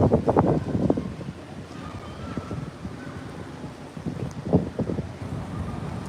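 Wind buffets a microphone outdoors, a low rumbling roar that swells and eases throughout, with a few faint thumps mixed in and no clear voices.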